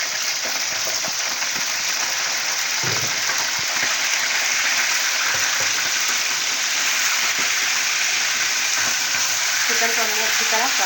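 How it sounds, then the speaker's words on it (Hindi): One kilogram of chicken fries in hot oil for chicken nihari, a dense, steady sizzle and crackle that lasts throughout, with brief clinks of stirring. "चिकन को हमें अच्छी तरह फ्राई करना है।"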